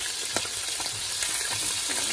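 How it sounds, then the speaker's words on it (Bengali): Fish sizzles in hot oil in a pan, a dense continuous crackling fry heard up close and fairly loud, with a few faint utensil knocks. "আর এই যে মাছ ভাজা হচ্ছে,"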